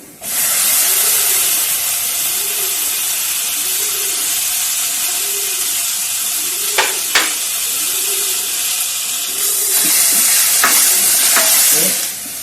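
Chopped tomatoes frying with beef meatballs in a pan give a loud, constant close sizzle and hiss, with a few brief utensil knocks near the middle and end.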